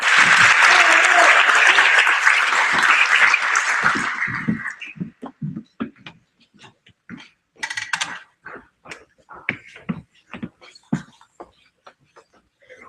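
Crowd applause at a high school NJROTC change of command ceremony, loud and full for about four seconds before tapering into a few scattered claps, shuffling and clattering sounds.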